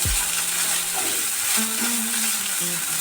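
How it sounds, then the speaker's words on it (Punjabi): Garlic and ginger curry roasts in ghee over a medium flame with a steady close sizzle, broken by scraping stirs of a utensil against the pan and no talking. "ਮੀਡੀਅਮ ਫਲੇਮ ਤੇ ਇਹਨੂੰ ਅਸੀਂ 5-6 ਮਿੰਟ ਚੰਗੀ ਤਰ੍ਹਾਂ ਭੁੰਨ ਲਵਾਂਗੇ"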